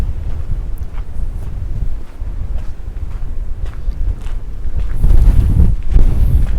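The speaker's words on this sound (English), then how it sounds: "Oh, windy." Steady wind rumbles and buffets the microphone throughout on a walk in El Cotillo, growing stronger and gustier near the end.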